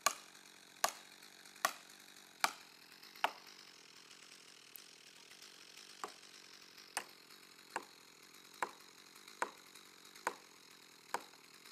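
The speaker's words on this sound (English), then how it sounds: "After many blows from the axe to force the wedge to push the tree deeper" An axe repeatedly striking a wedge to fell a large coast redwood: about fifteen sharp, ringing blows at a steady, unhurried rhythm, loud and close against a quiet outdoor background.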